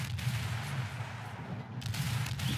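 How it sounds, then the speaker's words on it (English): Deep booming 5-inch naval gunfire from a cruiser in World of Warships thuds repeatedly over a dense background din, the shots blending into a steady rolling barrage. "5-inch gunfire going out on cruiser."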